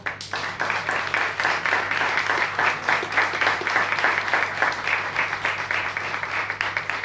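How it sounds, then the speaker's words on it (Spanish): An audience at a book presentation applauds steadily, a dense, even patter of many hands clapping at a moderate distance without pause. "les pido un nuevo aplauso"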